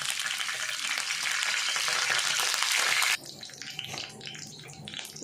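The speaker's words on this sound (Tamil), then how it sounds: "அந்த ஆயிலில் வந்து ரெண்டு கருவேப்பிலை அப்படி போடணும்" Curry leaves sizzle loudly in hot oil for about three seconds, a dense continuous frying hiss, then the sizzle drops to a softer, crackling spatter near the pan.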